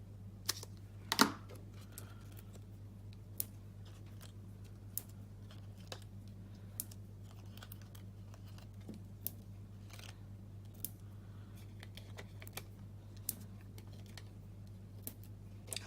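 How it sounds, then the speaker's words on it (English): Scissors trim the edges of handmade paper card pieces, soft quiet snips and clicks scattered through a hushed room, with one sharper cut near the start. "I'm just going to cut them down."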